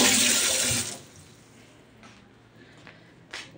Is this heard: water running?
yes